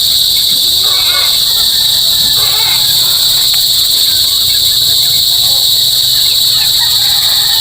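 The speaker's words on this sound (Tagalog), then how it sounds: "Mga kuliglig na naman ang aking kasama" Crickets chirp in a dense, constant high-pitched drone at sunset on a farm, loud and unbroken, with occasional quieter background sounds and a voice speaking faintly underneath.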